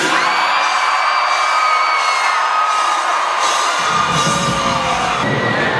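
Concert crowd at the Jordan Brand Classic screaming and cheering, a loud continuous wall of shrill yells and whoops with no break, close and dense throughout.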